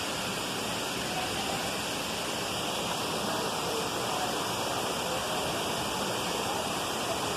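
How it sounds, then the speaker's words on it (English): A jungle waterfall in Costa Rica pours in a steady, dense roar of rushing water that fills the whole stretch evenly, close and loud, with no voices rising above it. "Look at the waterfall."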